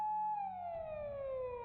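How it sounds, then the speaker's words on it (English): A single electronic police siren tone from a video game sweeps slowly downward, loud and steady, with a low rumble joining partway through. "I suddenly heard a brief blast from a siren."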